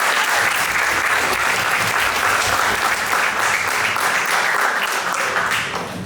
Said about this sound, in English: Can we get a round of applause for our first group?